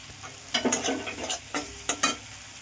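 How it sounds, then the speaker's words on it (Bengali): Masala for a doi katla yogurt fish curry is stirred and fried in a pan with ground kasuri methi, giving a handful of close scraping strokes over a low sizzle. "আমি 10 মিনিট ধরে ফ্রাই করব"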